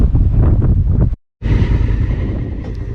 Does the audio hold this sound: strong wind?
yes